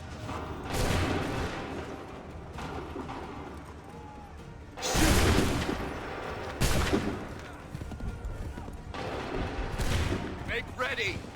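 Musket volleys crack out in Assassin's Creed III, with several loud massed discharges spaced seconds apart amid battlefield din, while commanders shout orders between the volleys.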